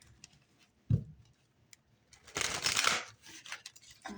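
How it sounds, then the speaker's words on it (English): Rider-Waite tarot cards being shuffled by hand: a soft tap, then a dense riffling burst of close card rustle lasting under a second, with lighter flicks after it. "I'm just going to start us off by shuffling some rider-waite tarot here"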